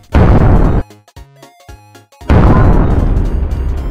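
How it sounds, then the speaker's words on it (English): Two loud bomb blasts in a mobile video game, the second longer and rumbling, separated by a moment of short electronic tones. "I like the explosion and the, the sound of the explosion."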